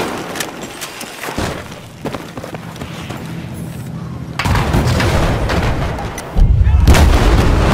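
Enemy rocket launcher blasts in Battlefield 4 set off heavy booms and gunfire, with loud crashing impacts that swell later on over a dense battle din.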